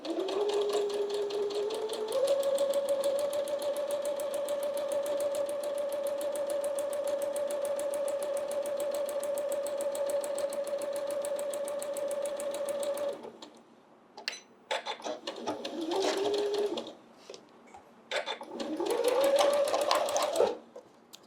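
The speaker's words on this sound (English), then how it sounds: "And we are going to sew on that line." A sewing machine stitches steadily along a marked line in one long, loud, even whirring run, then stops, followed by a few shorter bursts of stitching.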